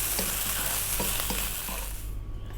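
Pumpkin fried rice with turmeric and spices is stirred in a hot pan, a continuous close sizzle with soft rhythmic scraping strokes before the frying quiets at the end.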